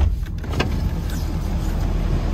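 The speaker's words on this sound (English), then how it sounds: "There's the beautiful sounding turbo diesel." A 2014 Ford F-250 Lariat turbo diesel with 93,000 miles idles steadily nearby, a continuous low rumble with a faint high whine, no voices over it.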